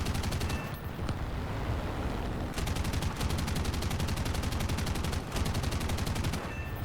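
Ki-61 fighter's machine guns firing in the game War Thunder, loud rapid rattling bursts with brief pauses between them, nearly continuous over an engine drone, with no talk.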